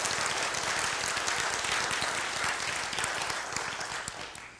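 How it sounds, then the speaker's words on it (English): An audience gives a full, continuous round of applause for kids back from a trip, loud and even throughout before tapering off at the close. "Let's give a round of applause for all of our kids that went on this trip."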